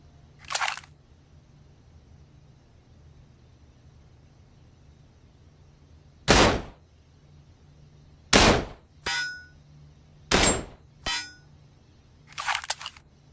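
A 1911 pistol fires about six sharp, separate shots over several seconds with quiet gaps between them, some spaced irregularly and a couple in quick succession, against a low background hum.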